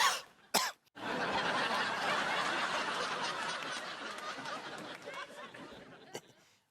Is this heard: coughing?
yes